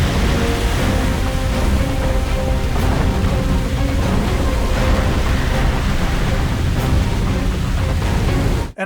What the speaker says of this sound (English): the sound of the waves crashing over the deck